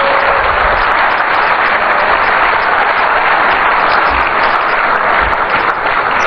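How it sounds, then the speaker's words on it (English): A large crowd gathered for a political speech in Accra applauds arriving guests, a loud, dense, unbroken roar of clapping that holds steady for several seconds with no speech over it. "I think we need to give them a bigger round of applause."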